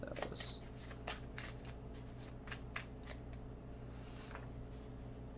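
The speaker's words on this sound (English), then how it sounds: "Shuffle those." Tarot cards are shuffled quietly and close by, giving soft repeated riffling and flicking strokes over a low background hum.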